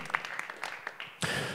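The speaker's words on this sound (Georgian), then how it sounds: "და აპლოდისმენტებით გავაცილოთ ჩვენი მებრძოლები." Talk at a mixed martial arts press conference gives way to a sudden burst of dense crowd applause as the fighters are seen off. The clapping swells loud and sustained to the end.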